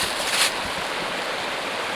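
A stream flows about 50 feet from a wilderness campsite in the Cranberry Wilderness of Monongahela National Forest, giving a steady, broadband rushing hiss that stays even and continuous throughout, with no voices.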